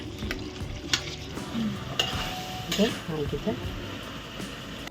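Chicken sukka masala frying in oil as it is stirred in the pan: a steady, close sizzle with scraping stirs and a few clinks of a spoon against the pan.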